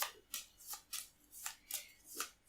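Cards being shuffled for the board game This War of Mine, with seven short, crisp riffling bursts in a steady rhythm, close and fairly quiet, with no talking.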